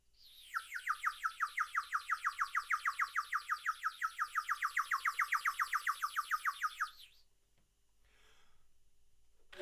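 Birds tweet at dusk in a rapid, steady run of bright repeated chirps lasting several seconds, fairly close and clear, before falling quiet into faint background hiss.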